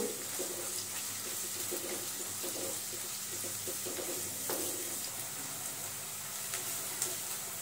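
A large onion sautés in two ladles of hot oil in a pan for vangyache bharit. It makes a steady, soft sizzling hiss with faint stirring clicks throughout.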